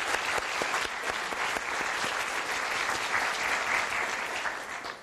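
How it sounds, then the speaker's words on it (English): Sustained applause from a conference audience after a closing panel, many hands clapping steadily at moderate distance for several seconds, even and full before tapering off at the end. "I hope that all the participants will join me in applauding you."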